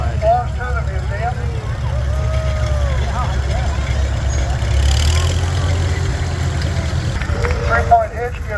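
A 1943 Farmall tractor runs with a steady low engine rumble as it moves through an antique gas and steam engine museum parade in Vista, California, heard beneath a loudspeaker announcer's talk and crowd noise.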